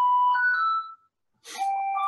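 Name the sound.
doorbell ringing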